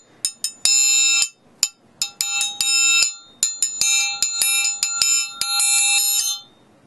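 A triangle struck repeatedly with a thicker rod rings out in quick bright strikes with rich shimmering overtones, some hits choked short and others left to sustain, close and loud throughout.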